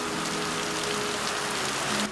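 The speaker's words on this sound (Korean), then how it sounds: "비구름이 몰려오는가 싶더니 소나기가 퍼붓습니다." Heavy rain shower pouring down in a steady, dense hiss with no let-up, loud and close, with no voices.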